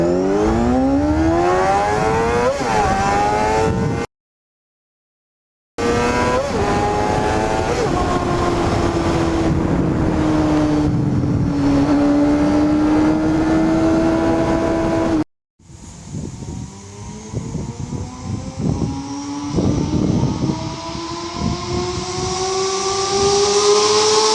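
A 250cc superbike engine capable of 20,000 rpm screams through its exhaust in repeated high-pitched revs, climbing and holding, with brief silent cuts between passes and a final long rising run.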